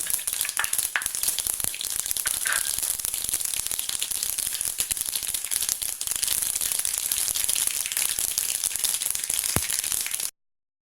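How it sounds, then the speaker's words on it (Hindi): Mustard seeds spluttering in hot oil in a pan on the stove, a continuous close sizzle with scattered sharp pops and crackles, steady throughout before cutting off. "तेल गरम हो गया था, राई फूट गई थी"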